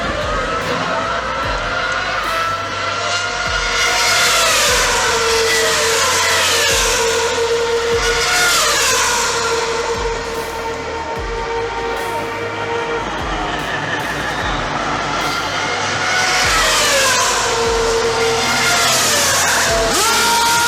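A Ferrari Formula 1 race car engine howls loudly and close, its pitch climbing and falling through repeated high revving sweeps with a brief dip midway before surging again.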